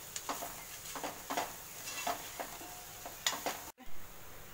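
MDH deggi chilli powder roasting in a pan makes a soft sizzle, broken by intermittent scraping strokes of stirring and a short clatter near the end.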